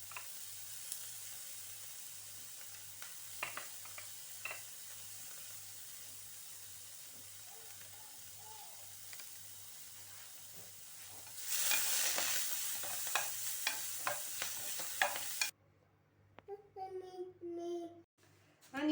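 Vegetables, including sliced zucchini, sautéing in a frying pan with a soft continuous sizzle and occasional stirring scrapes, the frying hiss growing louder toward the end before a sudden cut to quieter sounds.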